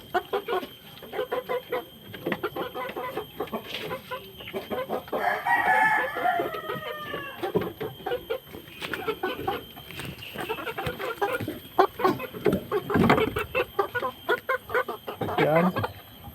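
A flock of young chickens clucks and chatters while pecking at feed on a farm, a steady busy murmur of close, overlapping calls with a brief crow-like cry standing out.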